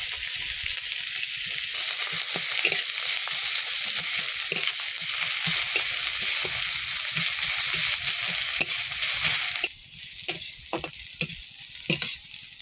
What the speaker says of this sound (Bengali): রসুন কুচি, পেঁয়াজ কুচি, লঙ্কা কুচি সব দিয়ে দেবো একেবারে।